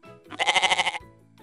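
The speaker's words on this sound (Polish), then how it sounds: "Koza." A single loud, wavering bleat with a rapid tremolo, close and clear, lasting under a second with quiet background around it.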